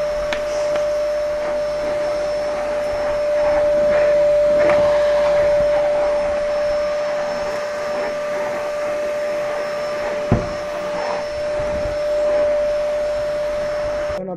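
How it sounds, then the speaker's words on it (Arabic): A vacuum cleaner runs on a rug in a home, a close, continuous whine with a steady tonal hum that shifts slightly as the nozzle moves, plus a brief knock partway through. "بس قبل ما نشيلها لازم نعملها بالمكنسة الأول"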